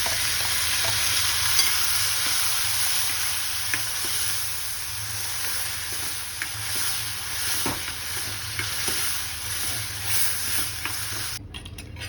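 Crushed and chopped tomatoes cook in a pan of bottle gourd curry, giving a steady, soft sizzle and hiss with faint stirring scrapes and taps throughout.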